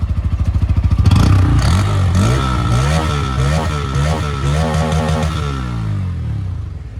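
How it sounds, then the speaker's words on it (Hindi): A motorcycle with an under-belly exhaust, either a Yamaha MT-15 V3 or a Bajaj Pulsar N160, ticks over in a rapid idle pulse, then revs up in several loud, close blips and settles back down, with no voices. "यहाँ पर बात करते हैं बाइक ऑफ द ईयर की आवाज़ का, under the belly exhaust note है"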